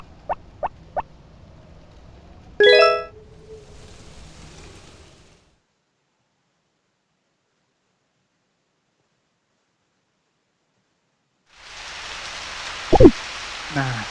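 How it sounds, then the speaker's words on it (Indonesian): Rain in the PS1 farming game Harvest Moon: Back to Nature: a few soft clicks, then a short hiss that dies into silence, with a steady wash of rain returning near the end over a brief tone. "Tapi kayaknya itu suara hujan ya"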